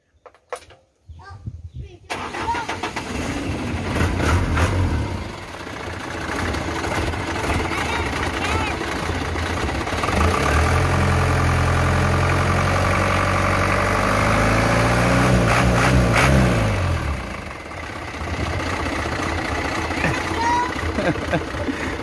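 A 2000 Ragasa 120ps with a blower cranks and starts, then settles into a loud, rough idle close by, with the engine rising in revs partway through and people talking over it.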